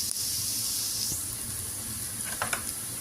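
Chopped meat and onion for an Ethiopian stew sizzle in a pan, a steady close hiss joined by a few brief clinks and stirring sounds near the end.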